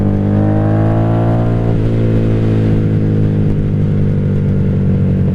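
A 1997 Honda Magna 750 VF750C V4 cruiser motorcycle rolls along with a steady, loud engine drone that drops in pitch midway as the rider eases off, then settles into an even, rumbling cruise with no voices.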